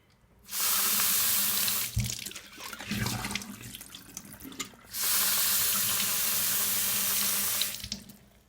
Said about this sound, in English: I'm going to double rinse them.